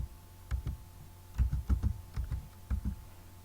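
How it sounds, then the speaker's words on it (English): Keys on a computer keyboard being typed in short bursts of several close, crisp clicks, with brief pauses between groups, while entering a word into an accounting software filter; no talking. "I will now type invoice."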